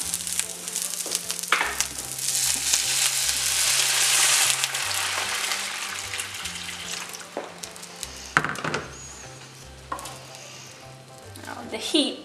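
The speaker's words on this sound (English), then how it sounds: "after it's been frying for a couple of minutes, just to add a bit of boiling water" Broccoli sizzles and crackles in hot garlicky oil up close, a loud steady frying hiss with occasional stirring clatter.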